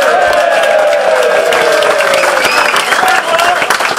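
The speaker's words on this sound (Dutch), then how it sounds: "voor jou eens even een groot applaus" A crowd claps loudly and steadily for several seconds, with cheering voices and melodic tones rising over the applause.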